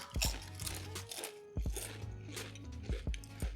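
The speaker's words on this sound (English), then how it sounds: "Very crunchy. Like, extreme crunch." Loud, close crunching of a crisp plain potato chip, with three sharp bites spaced about a second and a half apart, each followed by chewing.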